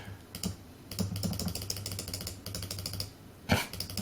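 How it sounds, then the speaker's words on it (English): Rapid, fast computer mouse clicking while working in Photoshop, a dense run of light clicks with a few louder bursts, close and fairly quiet. "obviously I'm clicking too fast."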